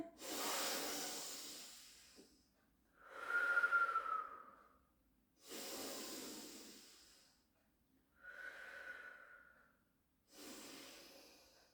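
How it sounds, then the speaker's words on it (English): Slow, deep breaths during a pilates side stretch: five separate airy inhales and exhales, close and quiet, with silent pauses between them. "Take a breath in"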